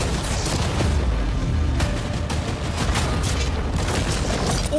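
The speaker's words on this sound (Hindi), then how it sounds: "चलो शूट करें कुछ कैनन्स" Cannons fire at a yacht, hitting storage containers on board: a dense, loud, continuous barrage of booms and crashing impacts, with no gaps between blasts.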